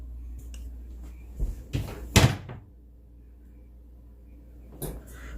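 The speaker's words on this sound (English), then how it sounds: "Ooh, my doors are opening by themselves." Doors bang and thunk a few times, a cluster of knocks and one sharp slam in the middle, then quiet with a faint later click.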